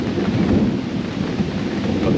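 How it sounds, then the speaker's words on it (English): Thunder rumbles low and continuous through a rainstorm at a campsite, with a steady hiss of rain over the deep, rolling sound. "It is raining and there's some lightning"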